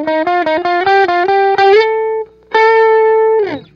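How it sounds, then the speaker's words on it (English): Electric guitar played through a Stax Odrive-1 pedal set to a very light overdrive: a quick run of separate picked notes, then two longer sustained notes with a short gap between them, fairly loud and alone. "very extremely light distortion, light overdrive, because we're still have it low."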